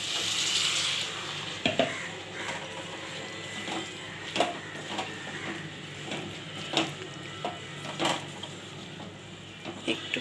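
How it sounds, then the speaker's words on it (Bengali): Water splashes into a pan of frying cabbage and chickpeas, giving a steady close hiss of sizzling with scattered stirring scrapes and taps throughout. "দেখো একটুখানি জল দিচ্ছি।"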